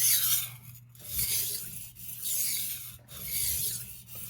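A file is drawn across the steel of an 8 inch carving knife to cut a bevel, four slow rasping strokes in an even rhythm with brief gaps between, close and moderately quiet.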